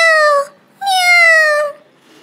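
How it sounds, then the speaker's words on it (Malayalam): A cat gives two clear, drawn-out meows close by, the second longer than the first, with a brief pause between and no other sound. "ഒരു പൂച്ചയുടെ കരച്ചിൽ കേട്ട്"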